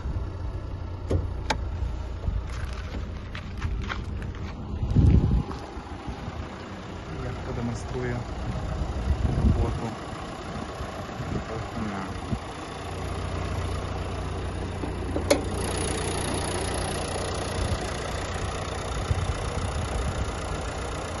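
A 2017 Renault Kangoo 1.5 dCi diesel with the bonnet open idles with a steady low rumble, heard close, with occasional clunks and someone talking over parts of it.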